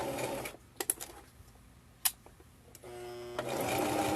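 A sewing machine stitches a small fabric mini messenger bag, with a short whirring run at the start, a few scattered clicks and taps, and a longer steady mechanical run at the end, close and fairly quiet.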